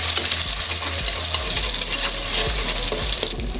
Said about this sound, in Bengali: এবার ডিমটা একটু নেড়ে চেড়ে ভেজে নেব।